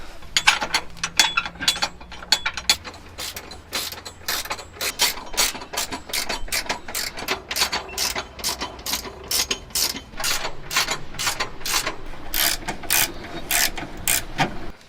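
Rapid, steady ratchet clicks from a hand wrench tightening subframe bolts to torque under a Honda Fit during home servicing, a close, continuous mechanical clatter running alone for the full span.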